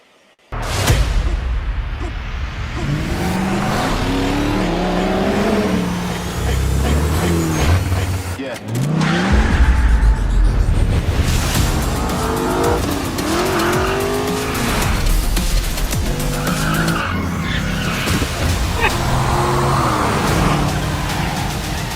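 Cars revving and drifting through a Fast and Furious trailer, engines roaring and tires squealing almost continuously with music and voices mixed in, one brief drop in the middle before the loud action resumes.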